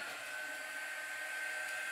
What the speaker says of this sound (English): I'm going to hit it with my dryer.